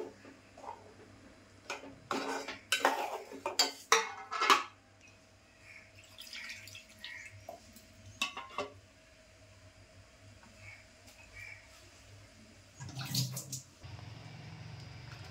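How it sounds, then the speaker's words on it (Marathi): A mixer jar is rinsed in short bursts of splashing water and light clinks, separated by quiet pauses. "तर मी थोडंसं हे मिक्सरचं भांडं धुवून टाकले"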